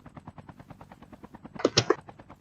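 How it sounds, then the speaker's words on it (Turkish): Helicopter overhead in Call of Duty Mobile, a rapid rhythmic rotor chopping that runs throughout, with a louder burst of gunfire-like blasts near the end. "yukarıda helikopter var"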